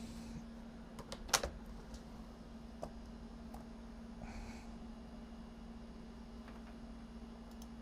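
A few scattered clicks of a computer keyboard, one brief cluster louder than the rest, sound over a steady low electrical hum in a quiet room.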